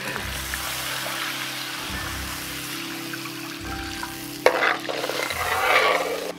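Chili oil stir-fried with tomato ketchup and chili sauce in a wok: a steady loud sizzle with scraping stirs, and a sharp burst of fresh sizzling as ingredients drop in partway through.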